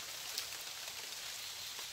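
Rain falling in a Borneo forest, a faint, even hiss of drops with no voices.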